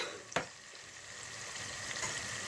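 Green chillies and onions frying in oil for a red sauce pasta make a continuous low sizzle, with a couple of faint clicks of utensil against the pan.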